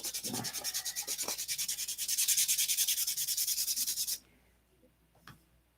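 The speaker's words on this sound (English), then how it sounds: "you start sanding on this, you can see that it's light and then dark" Sandpaper rubs back and forth over a scale model's surface in quick, even strokes, close and scratchy, building to faster sanding before stopping abruptly into near silence with a small knock.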